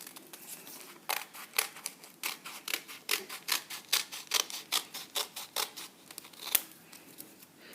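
Fabric snipped with scissors while cutting out a circle top, a steady run of crisp, close cuts in a quick rhythm, one clear snip after another with no talking.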